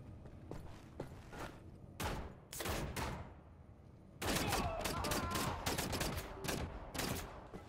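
Rifle fire rattles in rapid, dense bursts during a Moon battle in the shooter Wolfenstein: The New Order. It is loud and close, with short gaps between volleys and a heavier sustained stretch near the end.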